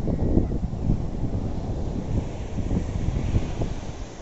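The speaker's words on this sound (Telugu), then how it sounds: "గాలి కూడా మంచిగానే వస్తుంది నీట్గా." Wind and surf at Marari beach in Kerala on a hot, sunny day, heard as a steady broadband roar with gusty wind buffeting the microphone and waves washing in without a pause, no voices present.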